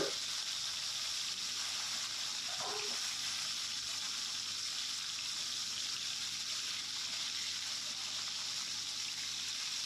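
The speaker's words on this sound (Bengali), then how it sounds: "এক পিঠ ভাজা হয়ে গেছে, তো আর এক পিঠ উল্টিয়ে দেবে, যাতে সব দিক ভালো করে ভাজা হয়।" Bogo fish frying in oil in a pan, an even, continuous sizzle held at a moderate level throughout with a faint scrape of a spatula near the start.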